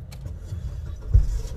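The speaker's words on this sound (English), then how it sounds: "This is if the car starts." A car engine turning over and catching at a drive-in, a low rumble that swells sharply near the end, close by, with no one talking.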